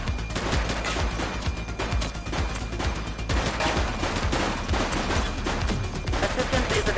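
Rapid gunfire in The Precinct police video game, dense bursts of shots crackling almost nonstop for several seconds at a steady, loud level.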